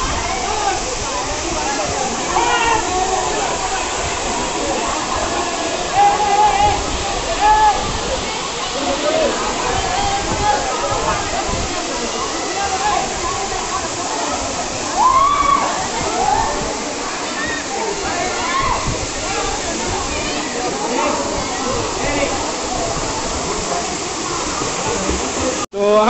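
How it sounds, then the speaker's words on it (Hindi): Kakolat waterfall in Bihar, a loud continuous roar of rushing, splashing water heard up close, steady throughout with faint voices mixed into the background. "और हम लोग यहाँ आ चुके हैं नहाने के लिए झरना के पास, बिल्कुल काफी ज्यादा करीब"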